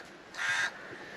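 A crow caws once, a loud harsh call of about a third of a second, as the bird flies past at an old sea fort; faint outdoor ambience surrounds it.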